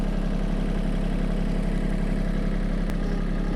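Diesel tractor idling steadily while pulling a Land Pride GS1560 grading scraper, a constant low rumble with no revving and only a brief click partway through.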